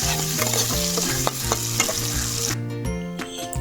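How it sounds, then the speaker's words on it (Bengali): Mango pieces stirred and fried in hot oil with salt, a steady close sizzle and crackle throughout, broken by repeated scraping strokes of a spatula against the pan. "লবণটা দেওয়ার পরে আবার আমটা তেলের উপরে আবার সুন্দরভাবে ভেজে নিচ্ছি।"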